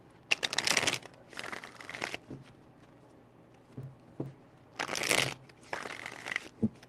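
Tarot cards are shuffled by hand in two close, crisp bursts of rapid riffling and flapping, separated by a quiet pause with a few soft taps.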